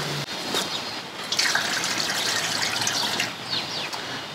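Water pours steadily into a hollow plastic bin lid used as a birdbath, a continuous splashing gush with a slightly rising tone, close and alone.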